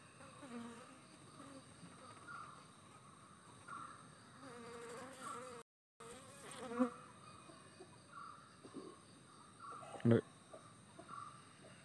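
Honey bees buzzing around an open hive while a comb is lifted out during beekeeping: a dense, continuous drone of many wings close by, with faint voices in the background.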